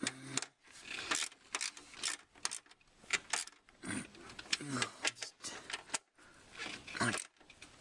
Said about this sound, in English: Just tighten these up now.